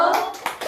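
Short bursts of children's handclaps from a primary school class doing the 'tepuk wow' cheer, a few quick close claps in rapid succession.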